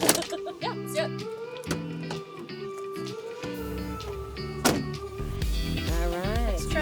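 Motor whirring as a Bestop soft top on a Jeep is lowered, heard as a mechanical hum with shifting pitch, sharp clicks and clunks, and people talking over it.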